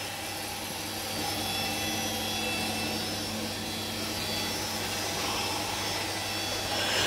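A robot vacuum cleaner with lifting mop pads runs indoors, giving a steady, close, loud whirring drone that holds unchanged throughout.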